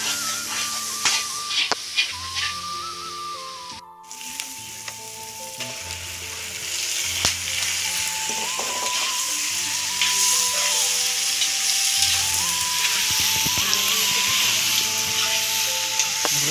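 Meat cooks in a pan for a wedding feast, giving a continuous close sizzle and crackle with occasional stirring. Tonal music or voices sound faintly in the background.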